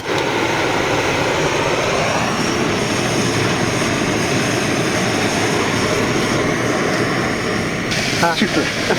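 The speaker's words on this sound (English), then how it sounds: "That sounds like a jet. Well, that's why it's called jet boil." A Jetboil camping stove burner roars steadily on a backcountry backpacking trip, a loud, close, continuous jet-like hiss with brief voices partway through.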